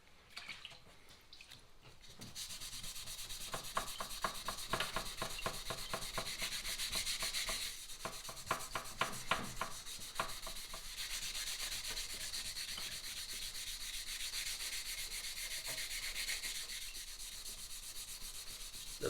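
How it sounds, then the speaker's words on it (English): Small cubes of red medium-grade steel wool scrub the engine of an RM 125 motorcycle, making close, continuous rasping strokes in a quick back-and-forth rhythm, with no talking. "And I'm using steel wool, the red one, medium grade."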